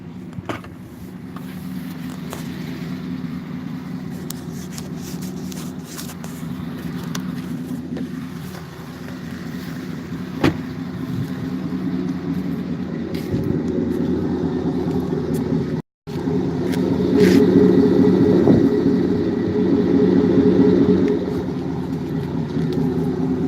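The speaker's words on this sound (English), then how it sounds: "Yeah, straight pipe gonna have a terrible drone." A car engine with a straight pipe exhaust drones steadily with a deep, loud exhaust rumble that rises slightly toward the end after a brief cut.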